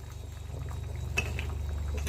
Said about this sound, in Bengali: আর একটু সময় ফুটবে মাছ দেওয়ার পরে।